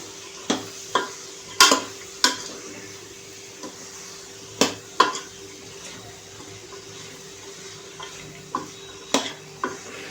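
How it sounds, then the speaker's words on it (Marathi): A spoon stirring mixed vegetables and soaked peanuts in hot oil for bhogi bhaji gives sharp, irregular scraping clicks against the pan, about a dozen over ten seconds, close and fairly soft over a faint sizzle. "आता आपण सगळ्या ज्या भाज्या ज्या आहेत ना त्या मिक्स करून घ्यायच्या आहेत तेलावरती."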